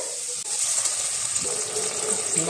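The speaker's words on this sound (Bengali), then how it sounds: "এবার এখানে দিয়ে দেবো পরিমাণ মতো জল" Water poured into a pan of fried potatoes for Bengali aloo posto, a steady close gush of liquid lasting a couple of seconds with no talk.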